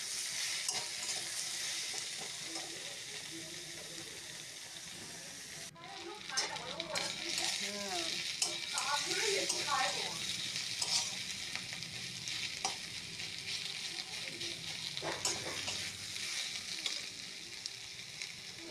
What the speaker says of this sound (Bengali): পেঁয়াজ টমেটোর সাথে আলু পটলকে ভালো করে এরকমভাবেই নেড়ে চেড়ে কিছুক্ষণ আমরা কষিয়ে নেব।